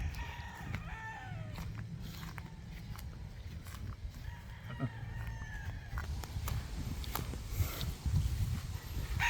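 Young gamecock stags crow repeatedly on a hot day, several rising and falling crows at moderate distance over a steady rumbling background of farm noise and other birds.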